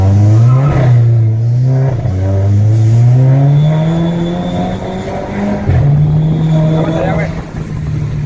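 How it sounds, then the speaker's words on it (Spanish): A Dodge SRT-4 with about 300 hp revs hard at full throttle, the engine climbing in pitch through repeated gear changes, loud and close as if from inside the car, with people talking over it. "la acelera a fondo"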